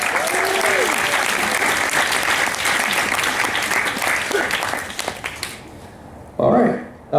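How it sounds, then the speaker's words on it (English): An audience at the AOD 2014 opening ceremonies gives a guest loud, dense applause that fades out after about five seconds, followed by a brief voice. "let's give a warm round of applause to Christina V."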